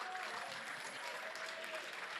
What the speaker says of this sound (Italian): Applausi anche per il giocatore che sta uscendo.